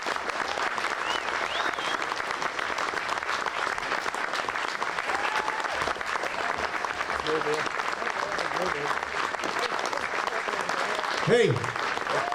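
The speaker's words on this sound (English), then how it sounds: "So please give them a massive round of applause" A music-session audience claps for a returning band at a live gig, a loud continuous wash of applause with a few scattered voices and a brief shout near the end.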